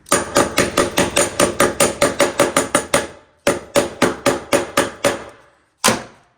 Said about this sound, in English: bang it in with your heavy duty stapler.